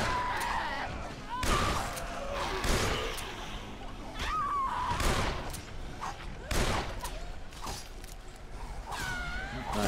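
Gunfire from a handgun in the zombie game Dead Island, with several loud, separate shots spaced irregularly over a busy mix of game noise, creaks and scattered voices.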